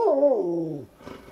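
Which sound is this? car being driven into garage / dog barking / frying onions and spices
dog barking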